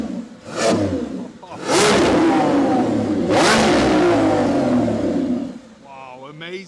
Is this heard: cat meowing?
no